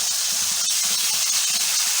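Tamarind pulp hits a hot tempering of spices in a pan, a loud, steady, close hiss of sizzling steam that fills the whole moment.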